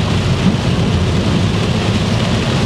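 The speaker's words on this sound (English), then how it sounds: "there's too much rain pissing down" Heavy rain pours steadily onto a car, a dense, loud, unbroken roar that fills the whole space with no voices over it.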